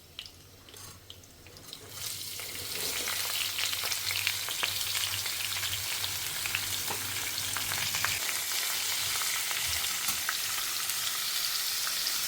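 Vegetables sizzle and fry steadily in hot oil with chana dal, urad dal, mustard seeds and dried red chillies, a dense continuous crackle that rises after the first two seconds and stays loud, with a low hum early on.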